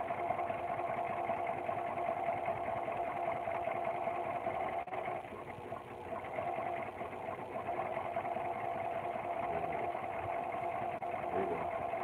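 A sewing machine stitching a quilt block runs in a steady, continuous hum for the whole stretch, fairly quiet and even, with no pauses.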